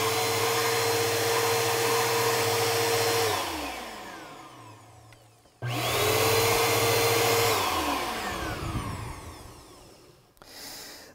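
A Bissell PowerLift Pet 2260 vacuum cleaner with a reversed air pathway and no suction runs loudly, winds down, starts up again and spins down a second time, with no voices.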